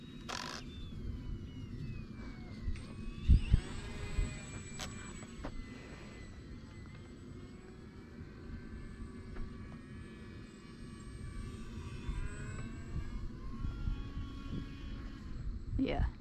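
A small UMX Turbo Timber Evolution RC plane's electric motor buzzes in flight, swelling and fading as it passes, climbs and rolls outdoors, with wind noise and a few sharp bumps throughout.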